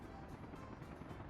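A helicopter in the city-building game Workers & Resources: Soviet Republic, heard as a faint, distant rotor thrum with a soft, regular chopping pulse.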